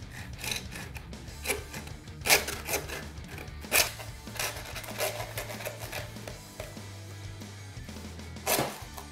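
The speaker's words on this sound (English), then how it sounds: "saw them off at the top here as they run down the spine" A hand saw cuts through deer ribs along the spine in short, irregular rasping strokes, close and moderately loud, with a few sharper scrapes and brief pauses between strokes and no talk.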